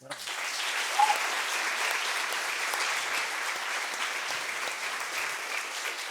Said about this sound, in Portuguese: Palmas para a Mariana.